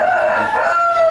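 A Bangkok breed rooster crows loudly and close by, one sustained strained call with a wavering pitch and no voices over it.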